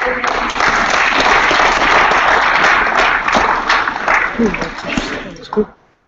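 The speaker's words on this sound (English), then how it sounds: "there's a good round of applause" Audience applause at a village annual general meeting in Parkhurst, a full, close burst of many hands clapping that holds strong for several seconds, then thins and stops abruptly.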